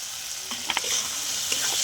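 Green peas frying in a pan with boiled potatoes for paneer aloo dum, a steady close sizzle with a few soft clicks of stirring, no voices.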